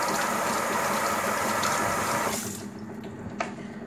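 Tap water runs steadily into a kitchen sink while onions are washed, a full broadband rush that cuts off abruptly near the end, leaving a quieter room with a brief knock.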